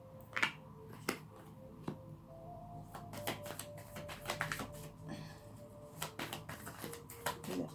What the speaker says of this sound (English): just shuffling the cards for 2 seconds